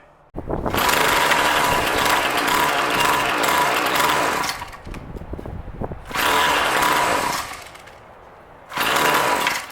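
A Craftsman gas string trimmer engine, run with loosely fitted fuel lines, buzzes loudly at high revs, drops and sputters, then surges back in two more short bursts.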